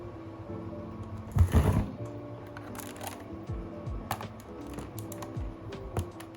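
Keys clatter on a white Redragon Kumara K552 mechanical keyboard in irregular bursts of sharp clicks, with one louder rustling thump near the start.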